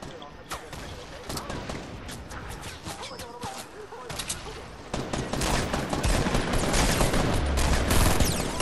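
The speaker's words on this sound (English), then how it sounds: "why are you shooting at me" Rapid gunfire in the video game Fortnite, dense bursts of shots that build and grow heavier toward the end, with players talking over the shooting.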